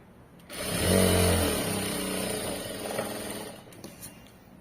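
A sewing machine runs a straight seam through cloth, a steady mechanical whir that swells loud near the start and then holds a fairly even hum to the end.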